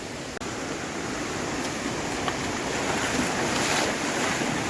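Swollen river floodwater rushes after a cloudburst of heavy rain, a loud, unbroken broadband roar of churning water with no voices.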